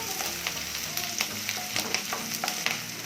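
Six small red chillies fry in oil for a tomato chutney, making a faint, crackling sizzle with scattered pops and spits, and no voices.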